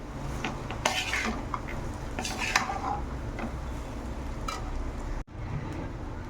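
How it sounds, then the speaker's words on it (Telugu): Cooked rice is mixed into beetroot fried rice in a pan, with a soft background sizzle under repeated spatula scrapes and metallic clinks against the pan. The sound is close and moderately quiet, with no talking. "రైస్ అంతా యాడ్ చేసుకున్నాక బాగా మిక్స్ చేసేసుకోవాలండి."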